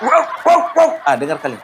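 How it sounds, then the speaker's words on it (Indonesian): A dog gives five quick, high-pitched yips up close, whiny and almost mewing in tone. "Dengar kan? Itu suara anjing."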